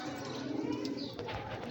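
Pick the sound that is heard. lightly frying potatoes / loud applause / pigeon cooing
pigeon cooing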